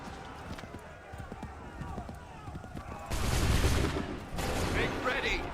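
A musket volley in the Assassin's Creed III video game: a loud, booming burst of gunfire erupting over battlefield noise and shouting voices, followed by a second crackling volley.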